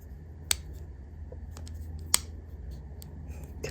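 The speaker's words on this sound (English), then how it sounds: "We're going to click this top part into place." Two sharp plastic clicks sound as an Apple Watch Ultra snaps into a rugged case, with fainter small ticks and handling noises between them, close and quiet.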